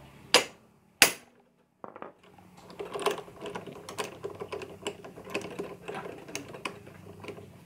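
A size 10 manual impact driver is struck with a hammer to free a seized L-bolt on a motorcycle disc brake caliper. Two sharp, loud metallic blows ring out close by, followed by busy clinking and rattling tool noise.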